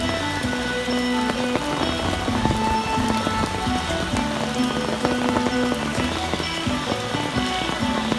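Steady rain falls, a dense even patter that runs without pause from start to end, mixed with faint tonal sounds in the background.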